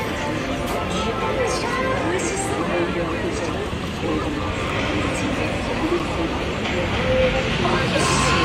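Trains run along railway lines below an elevated spot in Tokyo, giving a steady broadband rumble that fills the whole stretch, with faint city bustle and distant voices mixed in.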